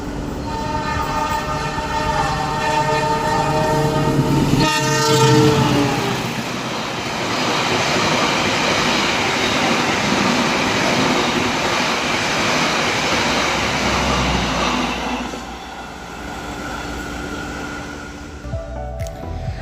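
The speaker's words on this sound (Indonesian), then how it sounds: "sesaat lagi kereta api Argo Bromo Anggrek akan melintas di jalur nomor 3 stasiun Kandangan" The Argo Bromo Anggrek passenger train rushes past on track 3 at Kandangan station at close range, its horn blaring early on, then a long, loud roar of wheels and wagons that gradually fades away.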